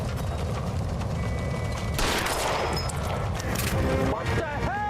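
Gunfire in the L.A. Noire video game: sharp bursts of shots crack out over a rumbling game soundscape, with a loud cluster near the middle and more toward the end.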